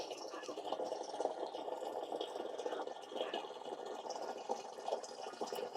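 Water pours steadily from a large container into a farm tank, a continuous splashing rush at moderate distance that holds level throughout.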